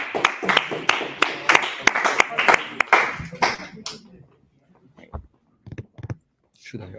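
Audience applause for the next team taking the stage at a university dApp course session, a few seconds of brisk clapping that fades out, followed by sparse murmurs and handling noises.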